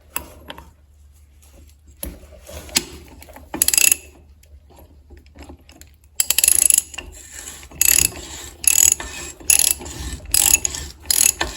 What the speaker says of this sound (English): I'm just using a regular ratchet just to tighten it up as much as I can before I torque it.